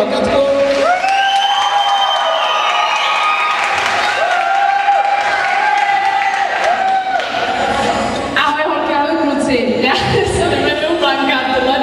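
A loud, close crowd at a children's camp event claps and cheers for two performers, with whoops and shouting voices over continuous applause that keeps going for the whole stretch.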